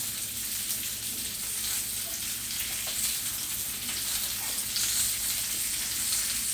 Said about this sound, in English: I'm doing fried rutabaga.